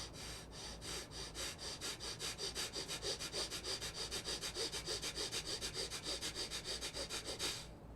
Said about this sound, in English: so that's breath of fire